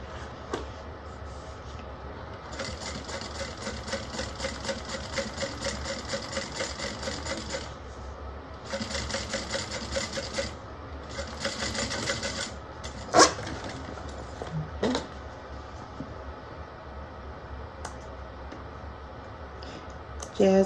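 A sewing machine top stitching a bag, a steady rapid mechanical whir running in long bursts with brief pauses, followed by a few sharp clicks, recorded indoors at moderate distance.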